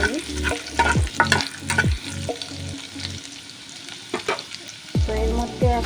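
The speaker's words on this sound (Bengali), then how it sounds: "রসুন কুচি আর আদা কুচি দিয়ে দিলাম। তো এটা একটু হালকা করে নেড়ে নিই।" Chopped garlic and ginger fry with a steady sizzle in a pan while a spatula scrapes and stirs in repeated strokes, close and fairly loud, with no talk.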